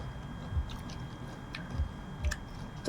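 Close, soft chewing of crunchy raw squid sashimi, a few faint wet crunches and bites spaced irregularly over quiet background.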